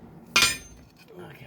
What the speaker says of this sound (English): I'll smash that down with my crowbar.